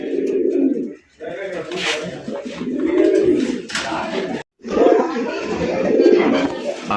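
Pigeons coo in low, rolling bursts, close by and fairly loud, with a couple of brief pauses between the runs of cooing.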